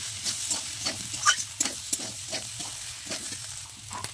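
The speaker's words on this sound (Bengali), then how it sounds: "এখানে লঙ্কা কাঁচা লঙ্কা আর আদা বাটা আছে, ভালো করে ভেজে নেবো" Spice paste of red chili, green chili and ginger fries in oil with a steady low sizzle, punctuated by scraping stirs of a spatula in the pan, close and moderately quiet.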